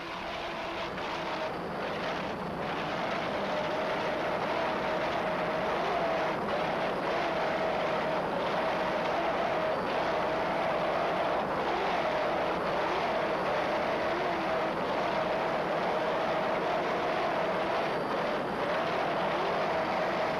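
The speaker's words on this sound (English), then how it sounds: "Those two 500 horsepower TCM inboards sound excellent." A 1994 offshore racing powerboat with twin 500-horsepower TCM inboard engines roars steadily and loudly for the whole stretch, a dense continuous drone with wind and water rush blended in and slight throttle surges, with no talking.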